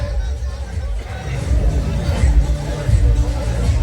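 A large crowd at a political rally in Narayangaon, Maharashtra, fills the air with loud, close babble and shuffling. A voice talks over the murmur.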